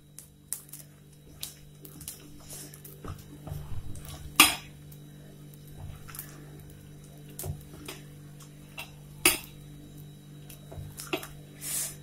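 Cut vada batter mixed in a bowl, with irregular wet squishing and a spoon knocking and clinking against the bowl's side, a couple of sharper metallic taps standing out, close and quiet with no one speaking.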